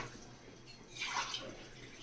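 Water is poured into a cooking pot to make sugar syrup for double ka meetha: a short splashing rush that swells in the middle of the clip and fades, over quiet kitchen background.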